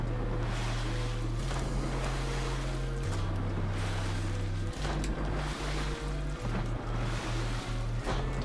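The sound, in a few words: character swimming in water in the video game Fortnite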